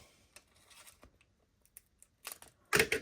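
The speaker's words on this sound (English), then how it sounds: "Let's cut it in half. These useless scissors." Scissors cut through paper at a planning desk: a few soft, scattered snips, then one loud, crisp cut near the end, with no talking.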